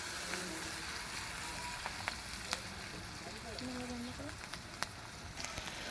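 Onions fry in a pan for a fish charchari, giving a steady, even sizzle that stays close throughout, with only faint background sounds.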